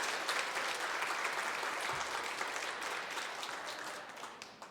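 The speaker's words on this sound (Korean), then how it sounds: "박수 한번 쳐드릴까요?" A church congregation applauds together in a sustained, even wash of clapping, heard from within the room, with a brief low murmur partway through.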